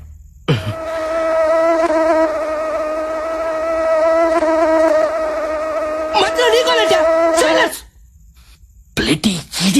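A mosquito buzzes close and loud, a steady high whine that holds for several seconds before breaking off, followed by brief voice sounds.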